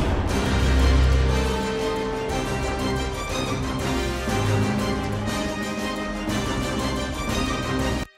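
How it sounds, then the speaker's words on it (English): Orchestral demo from the Sonuscore The Orchestra Complete 2 library, a full, dense ensemble of strings, brass and low percussion playing continuously and loudly with sustained chords, ending abruptly. "And for an orchestra of sort of mid-range to sound like this."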